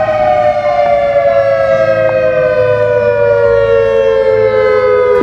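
A loud EOWS civil defense siren sounds a sustained, slowly falling multi-tone wail, close and unbroken, with nothing else heard.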